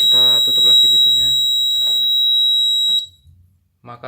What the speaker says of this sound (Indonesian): ketika kita membuka pintu, maka LED-nya akan menyala dan buzzernya akan berbunyi